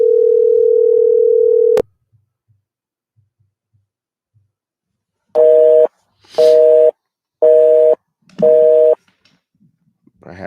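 Skype call tones go off in the background: a long steady tone cuts off sharply, and after a pause four evenly spaced, loud, repeating tone bursts follow, with no voices.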